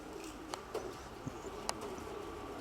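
A pigeon coos softly at close range amid quiet outdoor ambience, a few low soft calls broken by brief faint chirps and small clicks.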